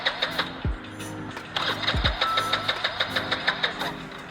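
A car engine cranks a few times, then catches and settles into a rapid, regular ticking idle that is moderately close and unaccompanied by speech.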